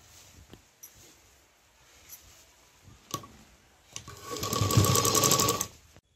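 A sewing machine stitches a dhol drum bag made from fabric scraps, running in short quiet bursts at first and then breaking into a loud, steady, fast whir of stitching before it stops.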